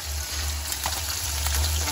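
Food frying in a pan of hot oil, a steady hiss and sizzle with faint crackles, close and continuous for a short moment with no talk.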